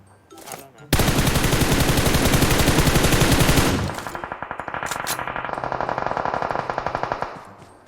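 Rapid automatic gunfire in the video game PUBG Mobile, a long loud continuous burst followed by slightly quieter rhythmic volleys and a few sharp metallic pings.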